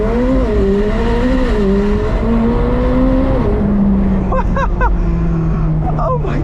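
A car launches hard at full throttle using launch control, its engine note holding steady and then sweeping through rising revs. Loud and close, with quick shift-like blips near the end and excited voices over it.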